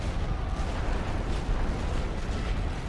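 Heavy artillery fire in the World War I strategy game The Great War: Western Front, a dense continuous rumble of blasts and bursts with no distinct gaps.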